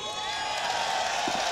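A packed esports arena crowd at IEM Dallas 2022 cheers and roars for G2 during their Vertigo quarterfinal against FURIA, a steady wash of distant voices with a commentator talking over it.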